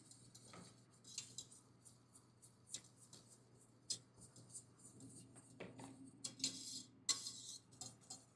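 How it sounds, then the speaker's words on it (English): Polenta whisked slowly into liquid in a pot. Light metallic clinks and ticks of the whisk against the pot come intermittently at close range, quiet over a steady low hum. "So we're gonna slowly whisk that in, so that way it doesn't clump."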